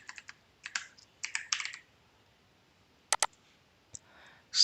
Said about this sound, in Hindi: सो सबसे पहले टाइप करेंगे सम इफ्स